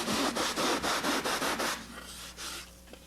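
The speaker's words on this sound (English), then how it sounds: "So it'll just take a little bit of sanding." Fiberglass laid over the foam core of a homebuilt aircraft wing is sanded by hand in steady, rhythmic back-and-forth rasping strokes close up, which slow and fade toward the end, with no voices.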